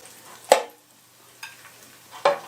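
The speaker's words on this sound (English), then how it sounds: "I can hear the sizzling." Pigs in blankets in a dual basket air fryer give off a quiet sizzle. Three brief crackling bursts come about a second apart, with near silence between them.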